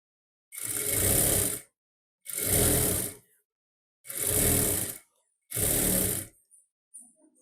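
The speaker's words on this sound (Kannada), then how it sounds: "ಇದ್ರ ತುದಿಗೆ ಒಂದು ಹೊಲಿಗೆಯನ್ನು ಹಾಕಬೇಕು" Sewing machine stitching the lining of a blouse's back side, running in four steady bursts of about a second each with short pauses between, close and loud, then a few faint handling clicks.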